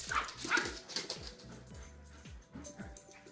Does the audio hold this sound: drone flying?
no